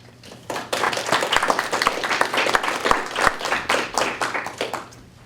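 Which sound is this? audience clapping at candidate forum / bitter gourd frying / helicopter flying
audience clapping at candidate forum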